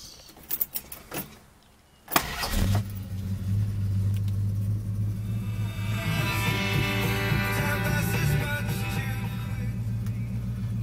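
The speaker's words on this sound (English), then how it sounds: "One crank, she turns over." A few clicks, then the engine of a 1968 Road Runner muscle car cranks briefly and catches, settling into a steady, rumbling idle up close.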